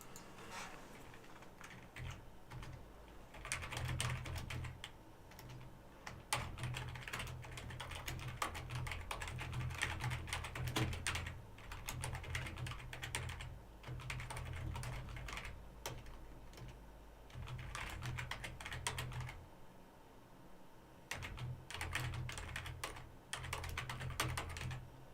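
Fingers type on a computer keyboard in quick, uneven bursts of soft clicking, close and quiet, with brief pauses between runs over a low steady hum.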